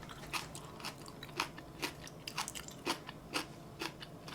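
Someone eating bibimbap chews right at the mouth, with quiet, moist crunches and bites in an uneven rhythm over a faint background.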